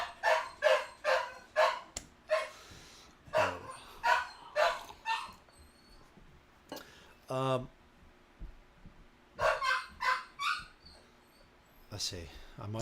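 A household dog barks in repeated bursts near the microphone during a game live-stream, sharp yaps in clusters with brief gaps and a whine in the middle, with talking underneath.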